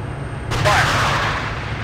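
A single heavy weapon blast from the military simulation game Steel Beasts Pro PE, fired during an obstacle-breaching exercise, hits suddenly and loudly, then a broad rumble decays over a second or so against low background hum.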